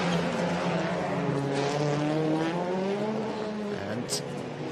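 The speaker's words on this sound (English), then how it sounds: "the car's going into the pit lane" A touring race car in free practice at the Marrakech street circuit enters the pit lane, its engine a steady droning note that rises and falls slightly, with a commentator talking over it throughout.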